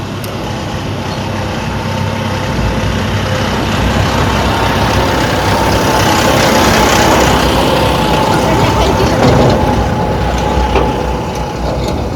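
A tractor engine runs steadily near a temple in Pune, a continuous mechanical drone with rattling, loud and even throughout with no clear speech.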